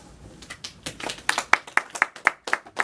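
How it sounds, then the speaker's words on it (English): A small audience claps after a poetry reading, starting as a few scattered claps and settling into a sparse, fairly regular run of distinct handclaps close by. "I appreciate the applause"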